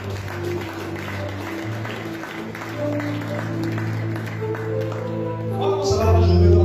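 Church congregation applauding and acclaiming God, with sustained clapping and crowd noise that swells louder toward the end, mixed with voices and music in the hall.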